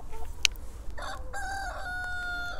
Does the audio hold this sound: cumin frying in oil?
no